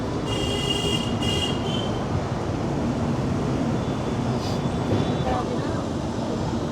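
An Indian Railways train running from Kolkata to Kalka hauled by WAP-7 electric locomotives, a steady rumbling roar of wheels on track from inside the carriage, with faint squeals and muffled voices in the background.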